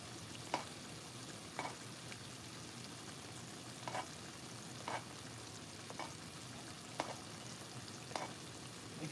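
Lamb chops searing in a pan on low heat, a faint steady sizzle with soft periodic scrapes or spoon dabs as they are basted.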